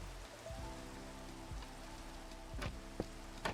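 Steady rain falls in the Minecraft game, a soft continuous hiss of drops pattering on surfaces with a few brief ticks, quiet and even, no voices.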